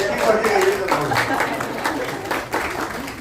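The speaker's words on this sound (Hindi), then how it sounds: "एक बार सर के लिए जोरदार तालियां हो जानी चाहिए" An audience applauds a speaker at a gathering in Ernakulam. The clapping is moderately loud, spreads across the room and runs under a voice before tapering off.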